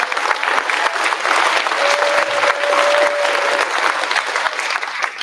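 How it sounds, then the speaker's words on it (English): A school audience at a fifth-grade chorus spring concert gives loud, sustained applause that swells and holds throughout, with a brief whistle-like tone rising above the clapping. "So a huge round of applause to you"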